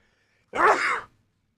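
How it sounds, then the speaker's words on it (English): One sharp, loud human sneeze bursts out after a moment of quiet, close to the microphone, and fades quickly. "My apologies if my sneeze jump scared anybody."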